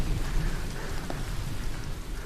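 Steady rain falling outdoors, a dense continuous patter with a low rumble underneath, moderately loud and alone with no voices.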